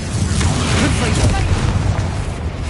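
Confringo fire-blast spell cast in Hogwarts Legacy, a loud, dense booming burst of explosive rumble filling the whole moment, with a spoken voice mixed in beneath the blast.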